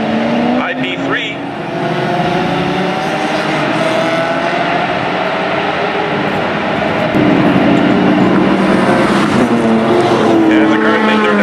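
Closed-wheel race cars, led by a BMW, roar down the front straightaway at Mission Raceway, a loud sustained engine drone with shifting, overlapping pitches as the field passes, and a commentator talks over it throughout.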